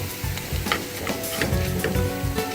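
Green chilies drop into simmering dal and sizzle steadily in the pan, with a spoon stirring and scraping in a few soft, irregular strokes, close and moderately loud.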